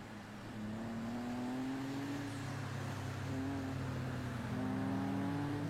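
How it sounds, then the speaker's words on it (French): Motorcycle engines in the video game GTA drone and rev steadily as they move along, a continuous motor hum with rising and falling pitch throughout. "J'ai entendu des motos là avancer."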